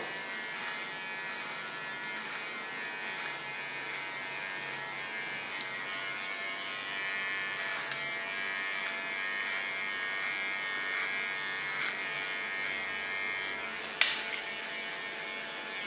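An electric hair clipper buzzes steadily while cutting ultra-short hair at the back of the head, a close, even hum with faint rhythmic swishes as the blades pass. Near the end comes a single sharp click.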